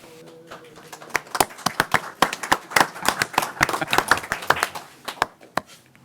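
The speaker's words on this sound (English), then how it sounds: "We like clapping for you, Chief." Audience at an Oak Lawn Board of Trustees meeting claps for the police chief at a scholarship presentation, a few close individual claps quickly swelling into sharp, scattered applause that continues and thins near the end.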